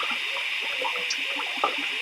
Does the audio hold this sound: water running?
yes